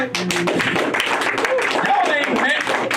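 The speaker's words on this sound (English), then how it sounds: "let's clap it up for that" A crowd at a live comedy show claps steadily and densely throughout, with a talking voice and cheers mixed in over the applause.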